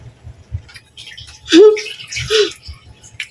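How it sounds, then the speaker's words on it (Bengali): Water poured over a person's head outdoors in a village, giving two short splashing gushes near 1.5 and 2.4 seconds over a low background of faint rustling. "আমি জোর করে আমি জলটা দিয়েছি মাথার মধ্যে"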